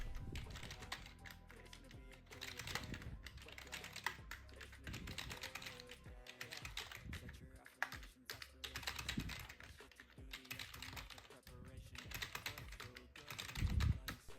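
Typing on a keyboard connected to a Geekom Mini Air 11 Special Edition mini PC: rapid, dense keystrokes clatter continuously at close range, with a slightly heavier burst near the end and no talking over them.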